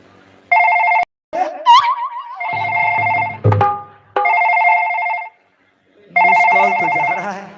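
A mobile phone rings in repeated bursts of a bright electronic ringtone, loud and close, with short silent gaps between the rings and no speech.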